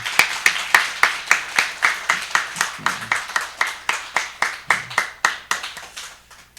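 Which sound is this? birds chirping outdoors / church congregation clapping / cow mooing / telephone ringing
church congregation clapping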